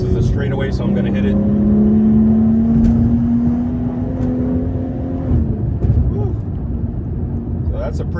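A 530 hp BMW G30 540i accelerates hard on a straightaway on Big Tujunga road, heard from inside as a deep rising engine note that climbs steadily for several seconds then drops at a shift into a lower cruising roar.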